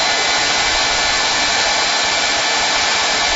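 A hair dryer blasts hot air to dry a patch of paint, a loud, unbroken airy roar held steady at close range with no other sounds.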